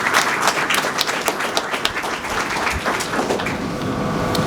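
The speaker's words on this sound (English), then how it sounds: "give him a round of applause, please." Audience applauding an instructor at a youth business program graduation ceremony: dense, steady clapping from a crowd, fairly close and sustained throughout, with no voices over it.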